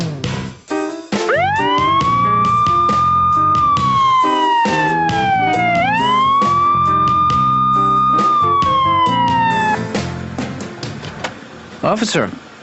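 A loud police siren wails in long rising and falling sweeps close by in a cartoon traffic stop, over music and voices, then cuts off, leaving chatter behind.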